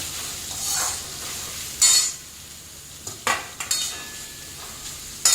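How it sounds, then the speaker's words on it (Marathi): Onion frying in hot oil over medium gas in a pan, a soft sizzle with stirring and a few sharp clinks of a spoon against the vessel, fairly quiet and close. "तेल गरम झालेलं आहे, त्यात आपल्याला घालून घ्यायचा आहे कांदा आणि छान सोनेरी रंग येईपर्यंत परतून घ्यायचा आहे"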